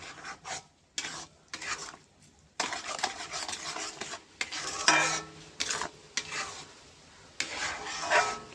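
Sugar being stirred into a pot of homemade tomato sauce, repeated scraping strokes of a spoon against the pan in irregular bursts with short pauses, close and fairly loud.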